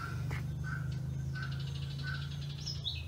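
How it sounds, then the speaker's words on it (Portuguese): Birds sing and chirp outdoors on a rural plot, short tweets repeating over a steady low background hum, moderately loud with no one talking. "Encerro aqui com o canto desses pássaros muito lindo."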